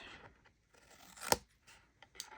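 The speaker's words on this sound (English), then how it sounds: "I'm just going to make a little tiny triangle cut" Scissors snip a small triangle out of a cardboard Little Debbie cake box tab, a single crisp close cut amid quiet paper rustling.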